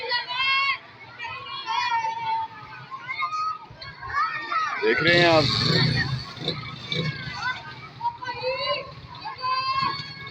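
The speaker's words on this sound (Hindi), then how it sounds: "आप देख रहे हैं कि ये बच्चे कैसे नहा रहे हैं" Children bathe and splash in about four feet of floodwater after heavy rain in Faisalabad, Pakistan; their lively voices and shouts mix with occasional splashes while someone talks over the scene.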